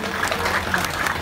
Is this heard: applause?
yes